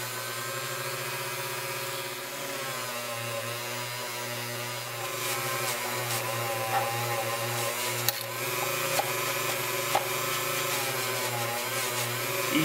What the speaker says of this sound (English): A little Dremel.